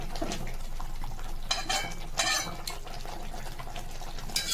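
Papda fish curry simmering in a pan in a home kitchen gives a steady close bubbling hiss, with brief clinks and scrapes of utensils and a pan rising above it now and then; no one speaks.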